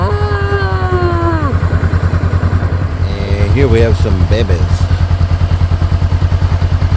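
A motorbike rides along a road in Cambodia, its engine a steady, close, rapid thrum that continues throughout while someone talks over it.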